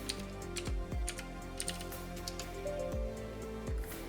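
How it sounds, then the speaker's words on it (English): Commands being typed on a computer keyboard in Windows, a quiet close series of key clicks in short irregular bursts with small pauses, no talking. "type in CMD, and then we're going to type in disk part"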